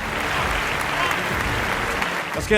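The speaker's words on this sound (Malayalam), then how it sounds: "ആ പായസത്തിന്റെ ക്ഷീണം മാറിയിട്ട് നിങ്ങൾ എല്ലാവരും ഒന്ന് കൈയടിച്ചേ" An audience at a stage event for Wayanad rebuilding breaks into loud, sustained clapping, a dense close wash of many hands that carries on steadily throughout.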